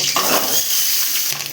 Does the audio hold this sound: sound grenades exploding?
no